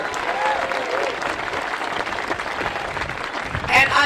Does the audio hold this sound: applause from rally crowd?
yes